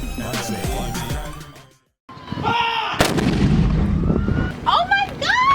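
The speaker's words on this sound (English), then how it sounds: "that firing of the cannon was intense" A cannon fires during an outdoor show: sharp, loud booms ring out, the biggest blast bursting in after a brief silence, while a crowd cheers and whistles around it.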